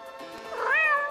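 A cat in a video game meows once, a clear rising-and-falling tonal cry in the second half, fairly close and loud over faint game background, with no talking.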